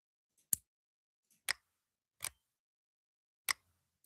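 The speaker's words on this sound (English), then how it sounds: "This is where we can definitely use our mechanical keyboard sound effect." Isolated mechanical keyboard key clicks sound as a sound effect, five sharp, separate taps spaced irregularly with silence between them.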